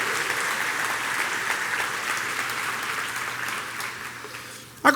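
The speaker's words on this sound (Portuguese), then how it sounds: "Dá uma salva de palmas ao Senhor e dá um glória aí." A church congregation claps together in a steady wash of applause that fades somewhat over time, with a sharper burst of louder claps right at the end.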